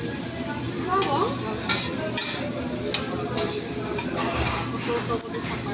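Garlic fries in a pan with a constant crackling sizzle and a few sharp ticks from a utensil, close and moderately loud, while a voice murmurs faintly in the background.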